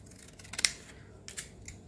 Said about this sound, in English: You're gonna cut one of these corners.